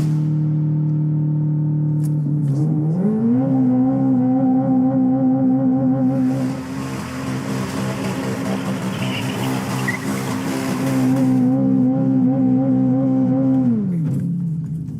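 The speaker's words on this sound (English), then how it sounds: "A burnout might help." A car on Michelin tires does a burnout, the engine rising and holding a loud, steady high rev while the tires squeal and hiss against the pavement for several seconds before the revs drop off.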